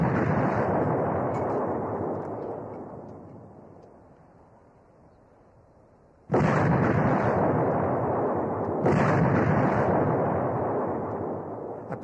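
Artillery shells fired during the 1942 Battle of Bir Hakeim: a loud, broad blast fades into a long rumble over several seconds, then two more sharp, heavy reports follow close together, each trailing a rolling boom.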